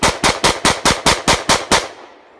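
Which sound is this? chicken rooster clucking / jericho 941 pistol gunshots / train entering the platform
jericho 941 pistol gunshots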